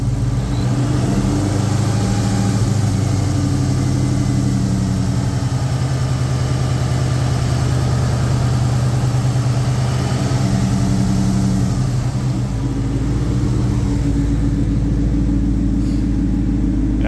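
A 2003 Ford SVT Cobra V8 idles at around 700 rpm after repairs, with a steady, even low rumble that holds throughout and no voices.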